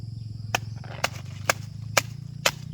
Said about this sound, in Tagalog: ang gagawin dito daw ay bibiyakin yung puno